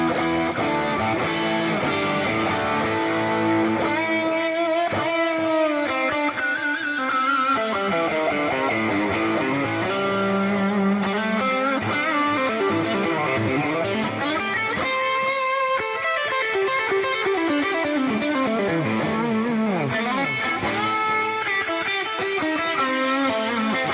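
An electric guitar on its bridge pickup plays through a distorted Sir Badger amp setting on a Fractal unit, loud and sustained, with shifting chords and bending notes running continuously for about twenty seconds without talk.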